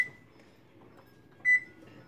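An electronic oven timer being set for a rum cake baking at 325 degrees gives a short beep at the start and a second clear, louder beep near the end, with a quiet room hum between.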